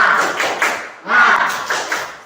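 A school class performs a rhythmic spirit clap, two quick patterned bursts of group clapping in unison with chanting voices, close and loud with short gaps between phrases.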